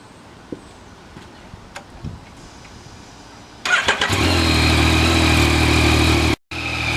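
A 2020 Yamaha MT-09 motorcycle engine cranks and catches, then settles into a loud, steady running note close by. A brief cut-out comes near the end before it continues.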